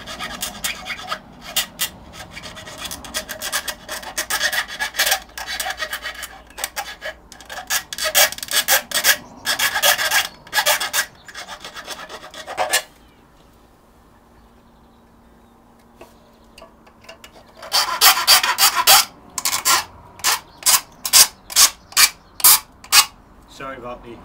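Harsh rhythmic rasping of a file scraping the metal edges of a homemade hobo stove, in bursts of quick strokes, pausing for a few seconds midway before resuming with evenly spaced strokes.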